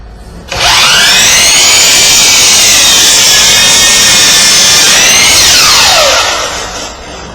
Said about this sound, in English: Go ahead and make that mark, and then make your rough cross cut.